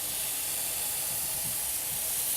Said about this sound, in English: when you hear a great sizzle when you put a mushroom on it or a steak or anything on a grill